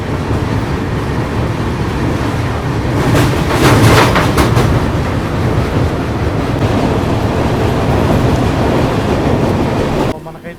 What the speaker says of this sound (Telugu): డిస్ట్రిక్ట్ లైన్ ఒక ఫ్రైట్ వెళ్తుంది. led by 33998